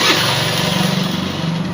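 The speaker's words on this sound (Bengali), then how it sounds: "স্টার্ট মারবো তবুও স্টার্ট নেবে না" A Hero Maestro BS6's electric starter motor whirs steadily and loudly, with a faint rhythmic pulsing, but the engine never catches and runs because of an electrical fault.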